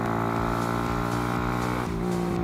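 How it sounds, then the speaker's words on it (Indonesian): A Suzuki Satria F150 motorcycle engine running steadily up close, its exhaust droning with a deep, throbbing tone that shifts pitch slightly near the end. "Suara mesinnya, suara knalpotnya"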